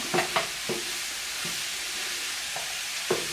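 Mushrooms, shallots and garlic sizzle in a hot pan under a steady hiss of frying, while a spoon scrapes and stirs in several quick, distinct knocks close by.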